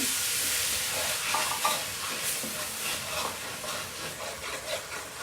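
Beef browning in an Instant Pot Dutch oven, a continuous close sizzle with scraping stir strokes against the pot bottom, steady and moderately loud.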